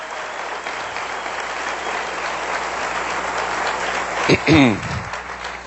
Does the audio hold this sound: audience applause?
yes